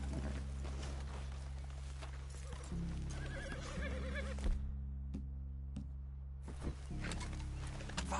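Horses in the Red Dead Redemption 2 video game neigh and whinny loudly over clip-clopping hooves and outdoor ambience, with a brief gap of near silence midway before the sounds resume.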